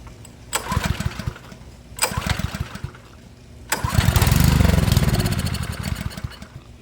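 A Honda pressure washer engine with a faulty spring is pulled to start three times with sputtering bursts, then catches and runs roughly for a few seconds, close and fairly loud.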